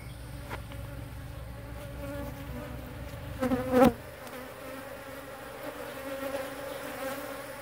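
Honeybees buzzing steadily at close range during removal of a hive from an abandoned house, a continuous insect drone with a brief louder burst of activity midway.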